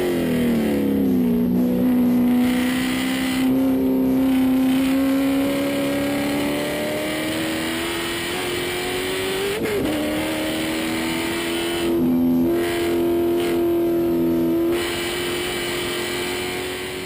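Onboard race car lapping Road Atlanta: a loud, continuous engine drone that climbs and drops in pitch through shifts and corners, with a sharp blip near the middle and steady wind and road roar.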